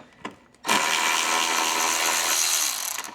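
A power tool or driver spinning on a side skirt bolt of a VW GLI, a loud continuous whir starting abruptly and running steadily for a couple of seconds, close by.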